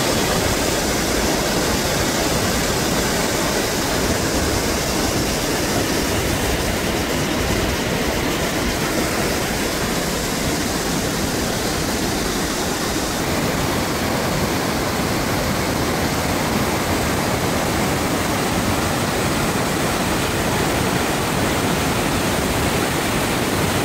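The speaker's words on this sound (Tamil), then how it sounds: "அந்த வாட்டர் ஃபால்ஸோட சவுண்டோடையே அப்படியே தாங்க நான் வீடியோ எடுத்திருந்தேன்" Savica waterfall in Slovenia roars as a steady, dense wash of falling water, loud and unbroken throughout, with no voices over it.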